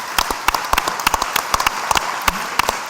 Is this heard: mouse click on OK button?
no